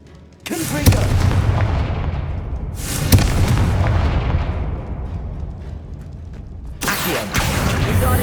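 Confringo fire spell explosions in Hogwarts Legacy: a loud blast opens, a second booming burst follows about two seconds later with a long rumbling decay, then a third explosion near the end, dense and close with no voices.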